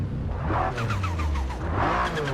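A Cadillac race car in Forza Horizon 5 revs hard, its engine rising and falling in two loud surges with rasping harmonics, close and continuous without talking.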